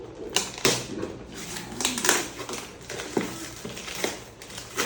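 Gift wrapping paper being torn open and crumpled, with a string of sharp crackling bursts and rustles coming close and fairly loud, irregular over about five seconds.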